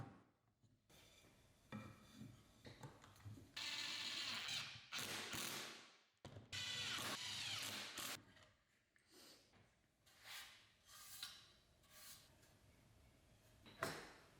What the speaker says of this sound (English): I use wood screws to assemble the shelf